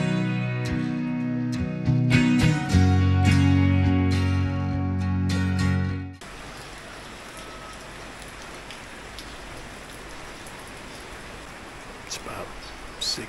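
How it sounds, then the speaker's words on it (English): Steady rain patters softly and evenly for several seconds in early morning in Luang Prabang, Laos, following a brief stretch of louder tonal sound at the start. "Rainy day. Super peaceful. As I get older, I enjoy the rain."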